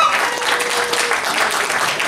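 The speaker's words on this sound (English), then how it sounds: "give that some applause" An audience at an AniMinneapolis anime convention panel breaks into a short, loud burst of applause that fills the room from start to finish.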